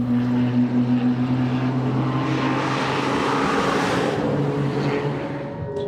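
A Hyundai Elantra N TCR on a race track, a steady loud engine drone with a sustained low tone from inside the car, fading slightly near the end.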